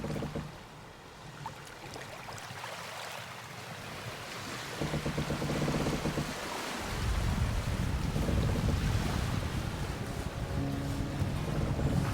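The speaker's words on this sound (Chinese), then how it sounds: "现在就只有风、浪的声音，没有其他的声音" Wind and waves surround a sailboat under sail with its engine off, steady wind buffeting over rushing water that swells louder and closer in the second half, with no voices.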